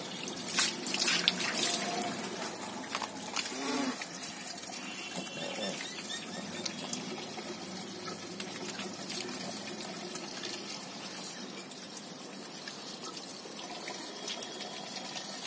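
A tap runs steadily while a rescued pug is bathed. The flow is moderately near, with some splashing and clatter at the start, then a constant rush of water until the end.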